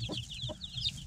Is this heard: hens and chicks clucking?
yes